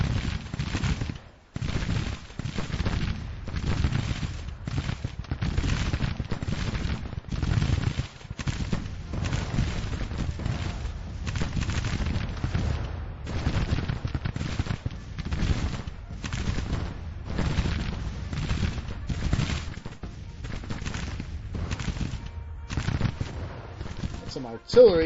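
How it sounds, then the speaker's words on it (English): Artillery and gunfire in a Grand Tactician Civil War battle come as a long run of repeated booms and rattling volleys in uneven bursts. The sound is dense and continuous, with no talk heard over it. "Some artillery, Union artillery on our flank."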